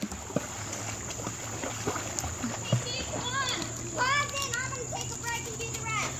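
A young child swimming across a pool without floaties, with steady light splashing and kicking in the water close by, while children's voices and an adult talk throughout.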